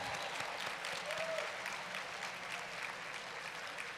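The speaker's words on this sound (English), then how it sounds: "Let's give these folks a big round of applause and welcome to our familia." Audience applause at a conference general session, a steady wash of clapping from a large crowd that holds at an even level throughout.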